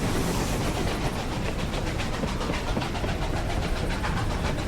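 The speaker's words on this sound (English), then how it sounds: "Here comes the train." Train passing in the western game Desperados 3, a continuous loud rumbling roar with rhythmic clatter close by, steady throughout.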